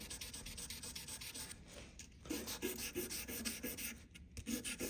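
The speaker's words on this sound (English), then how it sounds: "When we move on to the higher grits, we can just sand the whole lot in a row" Guitar frets on a Squier Jaguar being sanded with 400 grit sandpaper, a steady close back-and-forth rubbing in quick even strokes, soft and continuous with brief pauses, no talking.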